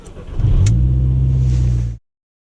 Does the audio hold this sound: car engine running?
yes